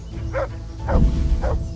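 A dog barks in the medieval role-playing game Kingdom Come: Deliverance, three short, loud yaps in quick succession over a steady background hum.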